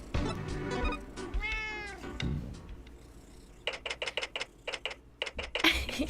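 A kitty gives a single rising, drawn-out meow near the start, followed by a run of quick, light mechanical clicks.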